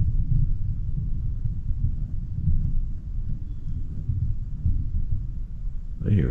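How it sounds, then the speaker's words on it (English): Low, continuous rumbling like distant thunder, deep and steady throughout, with a short brighter noise at the very end. "I hear thunder."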